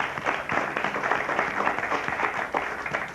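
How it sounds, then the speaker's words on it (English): Studio audience applause at a 1980–81 varsity quiz bowl semifinal broadcast, a steady, moderately loud wash of many hands clapping that holds evenly for about three seconds with no talk over it. "Nice round of applause for these fine folks"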